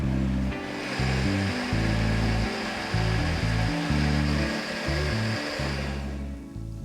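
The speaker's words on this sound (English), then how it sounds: "Pop 150 grams of spinach in a blender with 150 ml of water." A blender whirs steadily as it blitzes spinach with water, a loud, even motor roar that runs for several seconds before cutting off.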